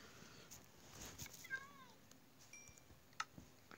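A house cat gives a short, faint meow with a rising-falling tone, followed by a tiny chirp, amid soft room noise and quiet background speech.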